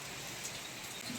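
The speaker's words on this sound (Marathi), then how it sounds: "बाळानं पाऊस आलाय" Rain falls steadily outdoors, making a soft, even hiss throughout the brief moment.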